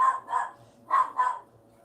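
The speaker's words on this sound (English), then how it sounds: "barking at the owner," A dog barks close by in two quick pairs of sharp barks separated by a short pause, loud and alone with no talk.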